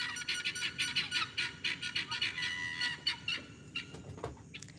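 Chickens call back and forth outdoors near a yard, a quick run of repeated squawking clucks in a pulsing rhythm, moderately close, with a few higher chirps toward the end and no talking.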